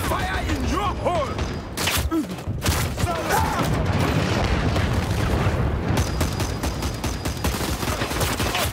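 Combat in the online shooter Dirty Bomb: loud booming blasts and rattling automatic gunfire pile up in a chaotic firefight, with shouted voices mixed through the barrage.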